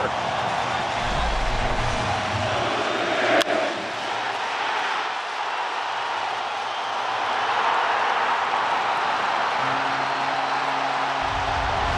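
Baseball stadium crowd at a Blue Jays game roaring in a frenzy, a loud, sustained wash of cheering that fills the whole clip without a break.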